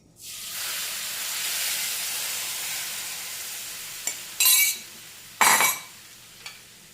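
Tamarind water hits a hot pan with a rising hiss that settles into steady sizzling, followed by a few sharp scraping bursts of stirring.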